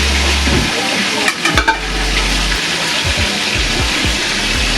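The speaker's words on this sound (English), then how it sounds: "And now with our fried dumpling." Dumplings frying in oil, a broad crackling fry with a low rumbling hum underneath, a few sharp clanks partway through, then irregular spattering pops near the end.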